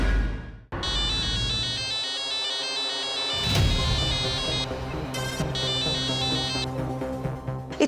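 A phone ringtone plays a repeating bright electronic melody late at night, loud and close, sounding alone for nearly eight seconds with a brief pause near the middle before the tune resumes.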